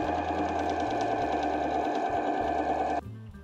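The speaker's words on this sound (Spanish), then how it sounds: "pasaremos una costura dejando el espacio acá para después darle la vuelta" A sewing machine stitches a seam joining fabric scraps right sides together, a loud, close, continuous buzzing whir that stops abruptly near the end, leaving a faint low motor hum, with no talking.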